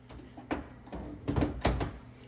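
Several metallic clunks and knocks as a Samsung wall oven door is shifted and drops onto its hinges, close by, with a low hum underneath.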